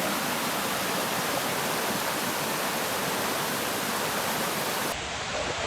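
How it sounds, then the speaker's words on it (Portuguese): The Cachoeira de Brejo waterfall in late afternoon pours in a steady, loud, broadband roar that fills the whole clip, with a slight shift in tone near the end and no voices. "novamente aqui na Cachoeira de Brejo, coisa mais linda"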